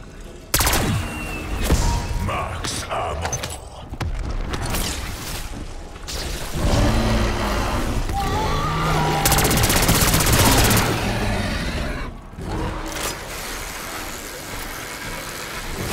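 A sentry turret fires in Black Ops 6 Zombies on the Liberty Falls map, sustained rapid bursts of gunfire running for many seconds, loud and dense. Other game effects and engine-like rumble are layered underneath.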